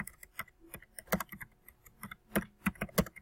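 Quick, irregular keystrokes on a computer keyboard, crisp and close, in short bursts with brief pauses and no talking.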